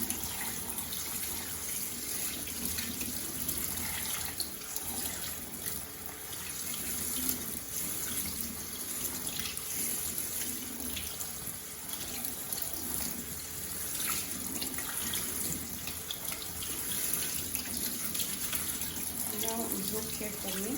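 Cold tap water runs steadily into a sink while oat milk is being made, a constant faint rushing stream with no break throughout.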